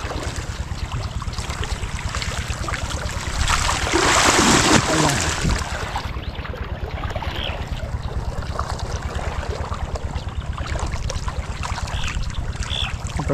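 Water flows steadily at an irrigation spot in a calamansi orchard, a continuous rushing wash under a low engine-like hum, swelling briefly louder mid-clip.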